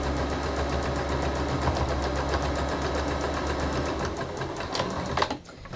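A sewing machine runs steadily, top stitching closed the turned gap in a simple Japanese bag's lining, its fast even clatter holding for several seconds before slowing and stopping with a final clunk.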